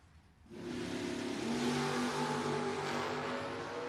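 A drag racing pickup truck at a no-box 660 shootout, an engine roaring up to a steady, loud, buzzing wail with rising tonal whine, heard from a distance without talk.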